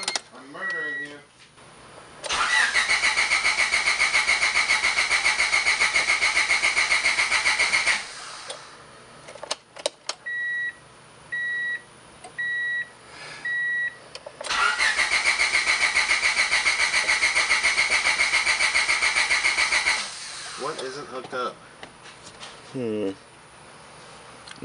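A Honda Civic wagon with a swapped B20 engine cranks in two long bursts, then catches and starts, with several short electronic beeps between the tries.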